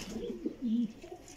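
Racing homing pigeons coo on a rooftop loft, a soft, low, throaty rolling call repeated a few times in quick succession, close by and moderately quiet.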